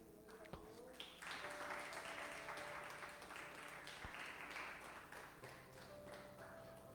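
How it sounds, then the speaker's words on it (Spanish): Congregation clapping in a church during a sermon, a sustained broadband patter of many hands that starts about a second in and carries on steadily to the end, with a faint tone and stray taps alongside. "Yo le daría palmas al Señor por eso."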